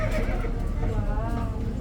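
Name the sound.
horses neighing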